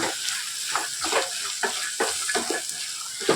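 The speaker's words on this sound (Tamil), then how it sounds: "நல்லா எண்ணெயில் ஒரு அஞ்சு நிமிஷம் நல்லா வதங்கட்டும்" Green peas sauté in hot oil with a continuous sizzle broken by regular scraping stirs of a spoon, close and fairly loud, with no voices.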